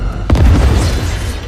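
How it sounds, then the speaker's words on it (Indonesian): A loud, deep boom from an explosion at a snow pavilion in a martial-arts story hits suddenly, then rumbles on as a low roar for the rest of the brief moment. "Tapi tiba-tiba terdengar bunyi ledakan."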